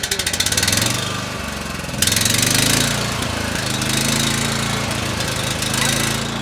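Petrol engine of a Swaraj Code mini tractor runs loudly and steadily at close range, with a rough, rapid chugging beat that grows louder at about two seconds and then holds.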